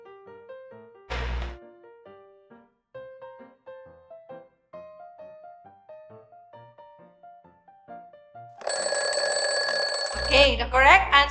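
A quiz countdown runs as a string of short ticking beeps, then a loud, bright electronic alarm rings out near the end, with a brief voice heard early on.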